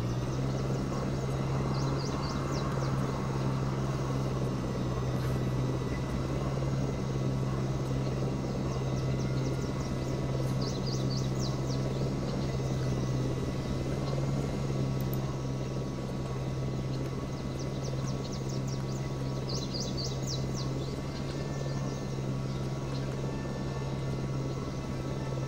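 A helicopter in the video game Jurassic Park: Operation Genesis drones steadily with a low rotor hum throughout, joined by faint chirping birds from the game's park ambience.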